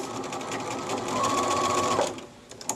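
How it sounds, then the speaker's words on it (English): A sewing machine running continuously as it backstitches the seam of a cuffed pillowcase, a close mechanical whir with a brief tonal whine before stopping near the end. "remember to backstitch at the end"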